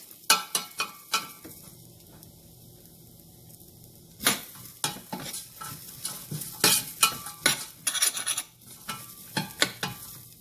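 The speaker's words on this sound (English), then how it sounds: "After adding vegetables, give a mix." Vegetables stirred in a pot for oats sprout soup: a spoon scrapes and knocks against the pot in bursts over a soft sizzle, with a brief pause before brisker, louder stirring resumes.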